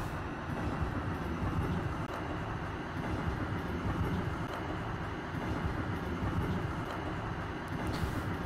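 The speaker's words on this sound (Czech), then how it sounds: "Ta tramvaj moc nepobírá." Tram climbing a hill in the OMSI simulator on the Bratislava 2008 map: a steady, loud rumbling drone of motors and rolling wheels with faint rail clatter, continuous throughout with no speech.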